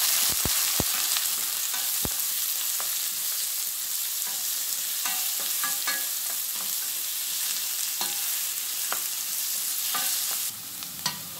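Finely chopped onions and curry leaves frying in hot oil, a steady close sizzle with scattered stirring scrapes and clicks of a spoon against the pan, no talk.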